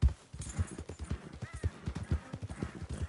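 Horse hooves clip-clopping in Red Dead Redemption 2, a steady rapid gallop of repeated thumps close up, with a faint whinny and no talk.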